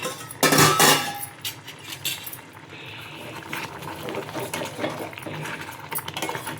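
Capsicum tomato masala curry being stirred in steel pots, with close metallic scrapes, clinks and knocks of a spoon against the vessel in an irregular rhythm, louder early on, no voices.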